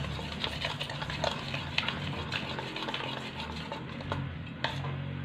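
Dhokla batter whisked by hand in a bowl, a steady scraping, clinking stir with brief sharper knocks against the side, close and continuous with no talk.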